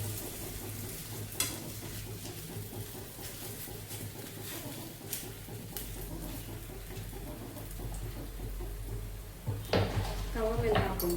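Plain kulcha dough laid on a hot tawa gives a steady, soft sizzle with occasional clinks of utensils, while a person talks over it.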